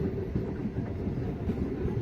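Passenger train pulling out of a small rural station on the Masagram–Bankura line in West Bengal, a steady low rumble of carriages rolling on rails, continuous and fairly close with no talk.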